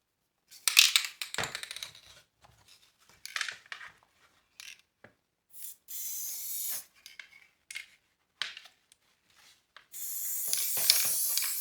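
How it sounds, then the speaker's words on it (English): Short hissing sprays from a can of Elmer's multi-purpose spray adhesive while making a fanny pack, a couple of bursts mixed with scattered rustling and handling clicks, fairly close. "I'm going to give a quick burst of Elmer's multi-purpose spray adhesive"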